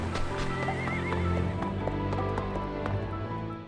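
Horse whinnying with a rising, wavering call over steady clip-clopping hooves in Octopath Traveler II, set against layered game music and ambience, loud and continuous throughout.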